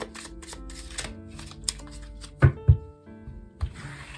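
Tarot cards being handled and drawn from a deck, with close, light rustles and slides broken by a few soft taps and thumps of cards laid down.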